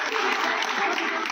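A crowd at a village gathering in Kamalwala claps loudly to welcome a BJP candidate, a dense, even burst of applause heard alone for a moment.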